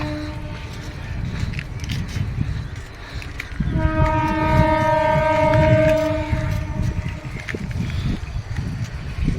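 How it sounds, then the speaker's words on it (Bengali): A Howrah-bound train pulls out of a station, its horn blaring a long harmonic tone over the rumble of the moving cars, loud and nearby amid outdoor noise. "ট্রেনটা ছাড়ছে এখন"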